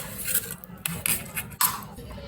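Spoon mixing a corn chilli toast topping in a bowl, quick scraping and clinking strokes against the bowl in an uneven rhythm, close and alone.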